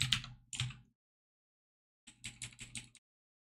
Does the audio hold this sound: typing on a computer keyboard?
yes